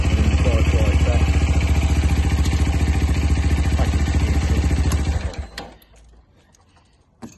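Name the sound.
Sinnis Terrain 125cc motorcycle engine running with clutch engaged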